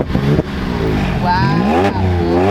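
Car engine revving hard in a rev battle beside a McLaren 720S: loud, close revs rising and falling in pitch over a couple of seconds, with a brief dip between pushes.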